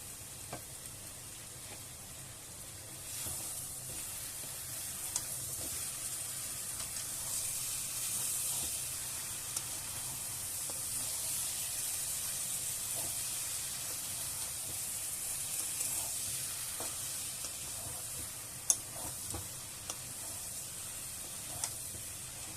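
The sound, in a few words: prawns sizzling as added to frying taro stolons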